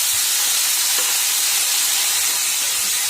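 Chopped pointed gourd (polta) leaves fry in hot oil with salt and turmeric, a steady close sizzle and hiss running evenly throughout with no voices.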